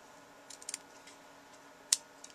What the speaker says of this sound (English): Then we're going to cut the edges